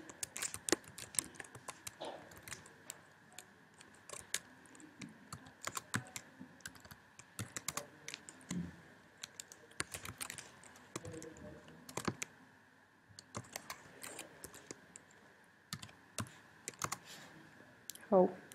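A computer keyboard is typed on at close range while working in Maple, producing uneven runs of sharp key clicks with brief pauses and quiet speech in between.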